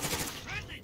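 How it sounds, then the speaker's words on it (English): Gunfire in the online battle-royale shooter Call of Duty: Warzone, a quick burst of several shots with game ambience, some faint talk around it, lasting under a second. "Good couple shots on him."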